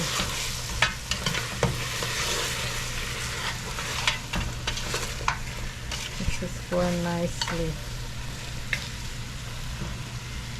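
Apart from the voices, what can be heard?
food frying in a pot for beef stew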